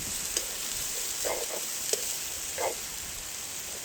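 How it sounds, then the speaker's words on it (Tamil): Cowpeas going into a pan of sizzling fried onions, a steady hiss of frying with a few soft stirring scrapes and bursts, close and fairly loud, with no talking. "எனக்கு எல்லாமே பொரிஞ்சுட்டு நான் கவுப்பியை சேர்க்கிறேன்"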